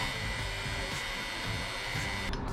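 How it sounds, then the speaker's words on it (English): A WireCare heat gun blows over heat-shrink tubing on boat pump wiring, a steady close whirring blower hum with a high whine that holds evenly throughout. "Also from WireCare is this handy heat gun. And you'll see it start to shrink there."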